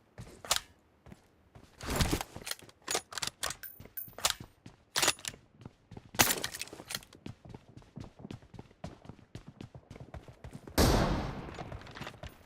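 Gunfire in a video game with a sniper rifle, heard as a rapid string of sharp, loud shots at an uneven pace, ending in a denser burst of fire.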